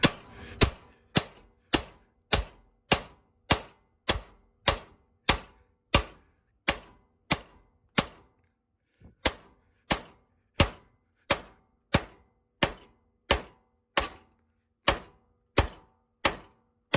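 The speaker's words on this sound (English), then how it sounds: "I'm just using a hammer, hitting the top of it" Steady metallic hammer blows strike the top of a wheel hub to drive it off the steering knuckle, about twenty sharp ringing hits at a regular pace with one short pause, close and loud.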